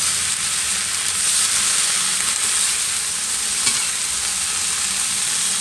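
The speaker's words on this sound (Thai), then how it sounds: "ผัดผักบุ้งให้สุกจนยุบลงจ้ะ" Steady loud sizzling and hissing of morning glory greens being stir-fried in a hot wok, with occasional scrapes and clinks of stirring.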